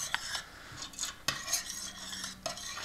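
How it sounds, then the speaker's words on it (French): Spoon stirring bolognese sauce in a pot, a steady run of scraping, clinking strokes against the pan with faint sizzling underneath, close and moderately quiet. "On remélange tranquillement."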